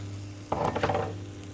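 Sliced onions drop into hot oil with a sudden burst of sizzling that quickly settles into a steady crackle, close and alone over a faint background hum.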